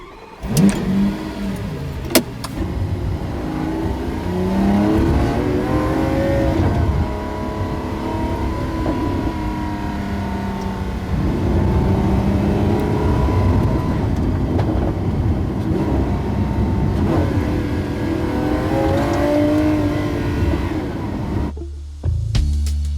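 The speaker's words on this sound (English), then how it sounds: "when you put the throttle on full, you use the boost, and that also comes in when you change gear." A car accelerates hard at full throttle with boost, its engine note climbing in several rising sweeps broken by gear changes, loud and close with no talk.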